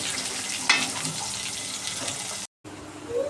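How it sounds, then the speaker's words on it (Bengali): Potatoes fry in a pan with a steady close sizzle and a sharp clink near the start, then a short silent gap before the hiss resumes. "এগুলোকে আগে ভাজা করে নেই"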